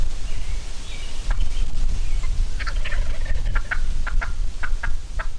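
A slate turkey call worked in a series of sharp, aggressive cut notes, short raspy yelps coming in quick irregular bursts over a constant loud background rumble, with no talking.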